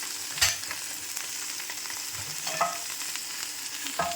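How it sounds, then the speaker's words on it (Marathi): Paneer fries in oil on a medium flame, a steady sizzle broken by several sharp spatula scrapes and knocks against the pan as it is stirred. "त्यानंतर आपण यावरती पनीर फ्राय करून घ्यायचं आणि वरतून ही तेलाची कोटिंग करून घ्यायची आहे।"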